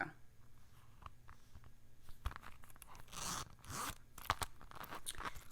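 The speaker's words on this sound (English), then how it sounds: "This is the zipper." A handbag's zipper is handled up close, giving quiet scraping zips and crinkly rustles in short bursts, with no talk.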